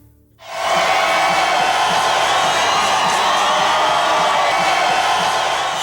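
A huge crowd of 10,000 to 20,000 Utah Jazz basketball fans cheers as the team heads to the finals, a loud, sustained roar that starts suddenly and holds steady.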